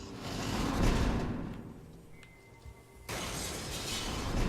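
In The Last Guardian, an object pushed off an edge breaks apart with a loud crash, followed by a quieter gap and then a burst of broad, noisy game ambience.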